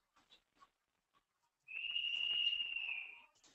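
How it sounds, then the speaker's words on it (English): A sustained, thin high whistle rises out of near silence and holds for over a second before fading, preceded by a few faint soft clicks, heard in a quiet room at 4 in the morning. "Can all of you hear this whistling sound in the background?"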